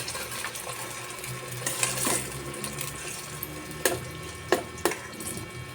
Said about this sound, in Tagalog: nilalagyan na po natin ng tubig